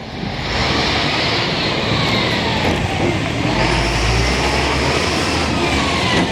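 A Coca-Cola delivery truck rumbles past on Ontario Street East in Hochelaga, Montreal, its loud broadband roar swelling and holding close by, with no voices.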